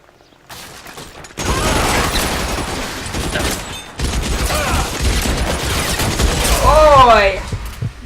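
Gunfire in L.A. Noire: a loud, chaotic burst of shooting and clattering action sounds follows a quiet start, continuing with a short pause and rising to a busy peak near the end.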